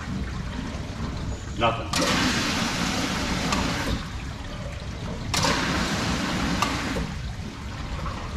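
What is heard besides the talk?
water running through a backflow preventer piping arrangement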